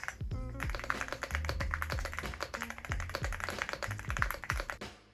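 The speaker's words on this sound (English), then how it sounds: "It actually sounds pretty good for a stock keyboard" Fast typing on a stock computer keyboard, a dense close run of crisp key clicks and taps for several seconds that thins out toward the end, with no voice over it.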